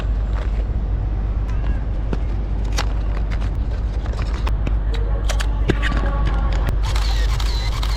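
A film camera loaded with Cinestill 50D fires its shutter outdoors on a quay in Marseille. A few sharp mechanical clicks sound against steady wind and harbour background noise.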